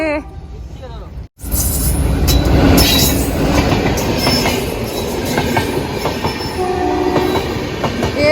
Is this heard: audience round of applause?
no